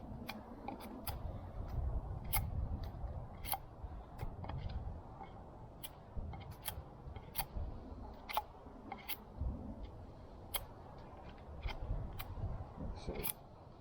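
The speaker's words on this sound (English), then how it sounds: "smooth it off a wee bit with my knife. And so I'm making a cut" A knife carving and smoothing a piece of wood into a woodland mallet outdoors, giving sharp, irregular scraping clicks, close and fairly quiet, over a low rumbling background.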